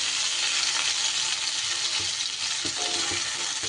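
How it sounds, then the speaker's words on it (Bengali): Pieces of taro (gathi kochu) frying in hot oil, a loud, dense, continuous sizzle with a few faint stirring knocks near the end, close and alone. "এবার ওই তেলের মধ্যে গাঁটি কচুগুলোকেও আমি কিন্তু একই রকমভাবে ঢেকে ঢেকে ভেজে নেব।"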